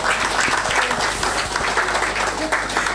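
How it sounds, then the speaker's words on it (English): Continuous, loud audience applause fills a summit hall, many hands clapping densely with a faint crowd murmur underneath. "Please keep clapping"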